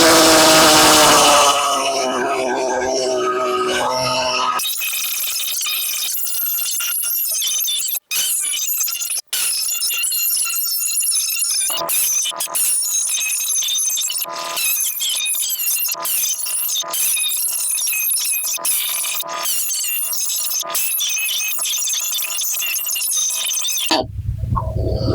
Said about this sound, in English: I'm going to use this air saw and try to hack this out of here.